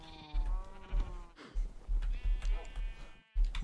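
Cows in the video game Minecraft moo in a few drawn-out, nasal calls. One call sounds early, another follows near the end, and softer game noises fill the gaps.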